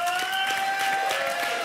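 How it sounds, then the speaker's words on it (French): Studio audience on a French dating game show applauding a couple, a short burst of brisk, fairly loud clapping with a faint crowd murmur and a sustained tone underneath. "On vous applaudit, Roxane et Benjamin"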